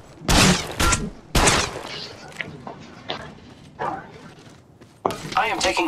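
Gunfire in the mobile shooter Apex Legends Mobile: several loud, sharp bursts and single shots spread irregularly over a few seconds, close, with a character voice speaking between them.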